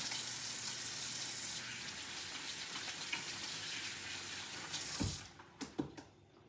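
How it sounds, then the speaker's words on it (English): Hands washed under a running kitchen tap while pork chops are prepared, a steady close rush of water for about five seconds, then the flow stops and a few short clattering knocks follow. "Lots of hand washing involved."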